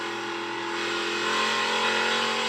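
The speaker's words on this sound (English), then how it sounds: "See him just having to work the throttle there off turn 2." A NASCAR Truck Series race truck engine roars steadily at high throttle coming off turn 2, its tone rising slightly as it pulls hard, loud and close with no voices.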